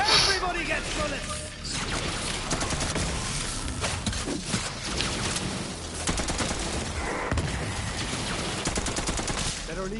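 Sustained gunfire in Borderlands 3, a dense, loud barrage of overlapping shots and impacts running throughout, with a voice speaking over the chaos.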